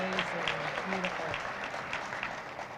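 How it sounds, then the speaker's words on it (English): Audience applause for a woman performer at a ribbon-cutting event for a county homeless shelter, a steady wash of clapping from a crowd with a voice speaking over it. "If we could give her another round of applause"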